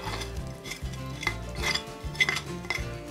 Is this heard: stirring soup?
yes